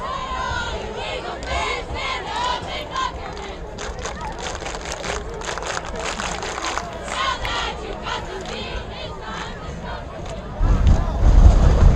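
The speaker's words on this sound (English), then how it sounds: "This rowdy crowd for Frederick's getting loud." Loud, rowdy crowd at a high school varsity football game between Fort Morgan and Frederick, steady roaring and cheering that swells near the end, with a commentator talking over it.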